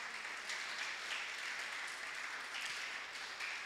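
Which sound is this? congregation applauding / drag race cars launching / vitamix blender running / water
congregation applauding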